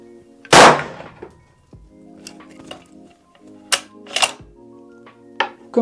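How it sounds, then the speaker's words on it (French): Rifle fired at a target 50 metres away: one loud sharp report followed by a few quieter cracks and clicks against a quiet background. "On va faire les tirs à 50 mètres."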